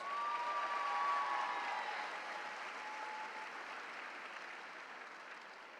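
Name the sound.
applause at commencement ceremony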